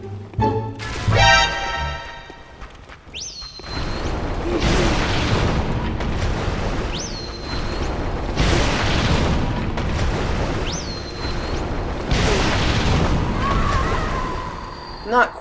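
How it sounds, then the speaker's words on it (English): Bloodtinge spell explosions from the video game Bloodborne, a series of heavy booming blasts at a roughly steady rhythm, each with a rising whine, loud and alone. "it still gets the job done messing around with that new Bloodtinge spell"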